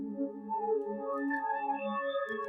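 A bright, dry synthesizer preset called Happy Panner from Omnisphere plays with no effects, a bouncy sequence of short melodic notes stepping through a chord pattern, steady and close.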